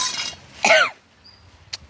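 A single short, raspy cough from a person with a cold bursts out nearby, followed by quiet and a faint click.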